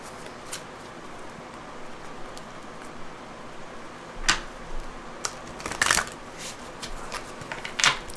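Tarot cards being shuffled close by, a soft riffling texture with a few sharper bursts of flicking and snapping, no voices.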